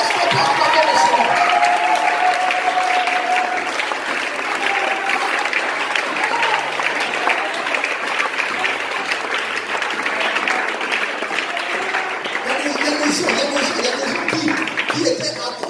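A church congregation applauds and cheers in praise of the Lord, steady loud clapping from a large crowd filling the room throughout, with voices calling out beneath it.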